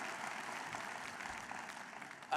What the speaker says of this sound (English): Somebody ought to applaud both of them here.